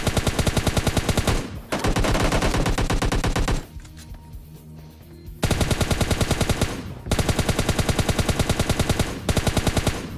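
Rapid automatic gunfire from PUBG Lite, loud and close, in repeated sustained bursts separated by a short quieter pause with no talking.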